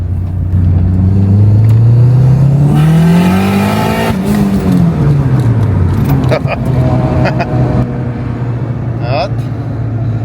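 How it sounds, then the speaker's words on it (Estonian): A turbocharged Honda Civic engine at minimum boost drones steadily, its pitch climbing then dropping back as it revs, with a few sharp clicks near the end. "Aga ma lasen teile siis natuke seda miinimum boosti heli."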